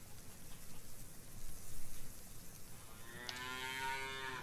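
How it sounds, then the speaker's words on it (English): Cattle mooing in the farming game Farmers Dynasty: a long, low, wavering moo enters near the end, with a steady rain-like hiss and background noise running throughout. "Go through here and milk the cows."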